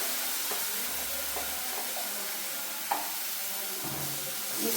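Tomato puree poured into spices in a hot pan sizzles with a constant bright hiss, and a few scraping stirs sound near and clear with no voices.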